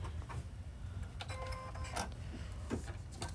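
An embroidery machine stitches a placement line on fabric, a quiet rhythmic mechanical whir with short clicks and faint tonal beeps over low background noise.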